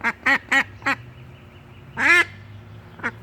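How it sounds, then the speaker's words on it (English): A female duck sitting on her eggs quacks in a quick series of four nasal calls, then one longer, louder quack and a short final one, close by and alone. "you're wondering what that noise is, we got another duck in here"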